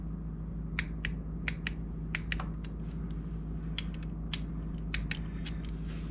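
A small torque wrench snugs bolts on a Cadillac 472 engine's T56 six-speed bellhousing, giving a string of sharp, close ratchet clicks in short bursts over a steady low hum.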